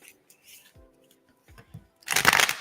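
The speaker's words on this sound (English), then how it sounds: "Shuffling the cards, and we're moving to group number 2." Oracle cards are shuffled in a brief, close riffling burst near the end, after a few soft scattered handling taps and rustles.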